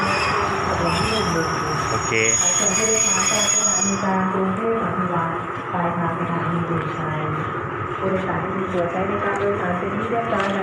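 An express train, No. 7, pulls into Chum Saeng station in Thailand, its wheels squealing loudly and steadily against the rails as it rolls in, with voices talking over the noise throughout.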